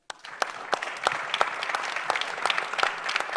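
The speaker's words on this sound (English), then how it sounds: "A round of applause for them" Conference audience applauding panelists at the close of a session on solar photovoltaics and gender, moderate clapping with distinct individual claps standing out, fairly quiet and steady.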